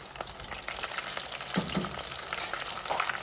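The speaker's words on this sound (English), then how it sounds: "These do not take very long to fry, so watch them carefully." Bean flautas, rolled in flour tortillas, fry in hot oil with a continuous close sizzle broken by scattered sharp pops and crackles, and no speech.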